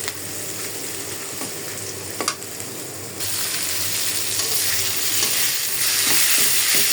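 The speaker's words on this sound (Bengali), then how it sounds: "অল্প করে লাল শাক রান্না করতেছি" Red amaranth greens (lal shak) hit a hot wok with a broad, rushing sizzle that grows louder midway, with occasional stirring clatter, continuous and close with no talking.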